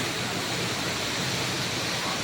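Strong water rushes and roars steadily near a tall rock formation outdoors, a dense, even wash of noise with no pauses.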